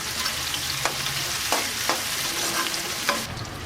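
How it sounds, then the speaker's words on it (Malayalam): Sliced onions sauté with beef for beef kondattam, sizzling steadily in a pan while a spatula scrapes and taps in occasional sharp strokes. "സവോളയും കൂടെ ചേർത്തിട്ട് ഒന്നും കൂടി നമുക്കൊന്ന് വഴറ്റിയെടുക്കാം."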